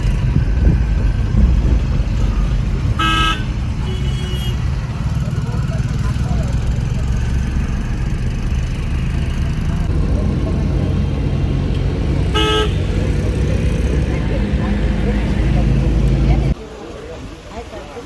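An Eeco car idles with a steady rumbling engine in a busy street outside a train station, with two short horn toots sounding midway while people talk over the traffic noise.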